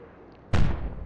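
A naval gun fires a star shell in the Atlantic Fleet naval combat game, one sudden deep boom with a short rumbling tail, loud and close after a quiet moment.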